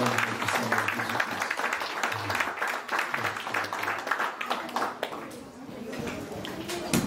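Church congregation applauding for the gospel reading, a sustained round of clapping from a crowd with a voice talking over it.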